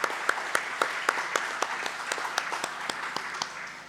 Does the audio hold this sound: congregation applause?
yes